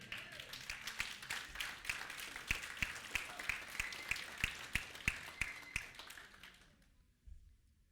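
Church congregation breaking into loud applause at the end of a worship song, dense clapping with a steady rhythmic beat running through it, then fading out quickly near the end.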